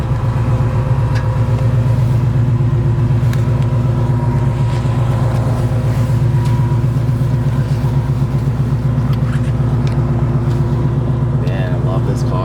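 A 1967 Chevrolet Chevelle with a 396 V8, four-speed and Flowmaster exhaust rumbles steadily while driving, its low exhaust note continuous and close throughout the cabin.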